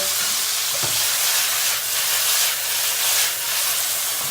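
Steady loud sizzling and hissing of chicken frying over high heat in a pan, with a few faint scraping stirs underneath.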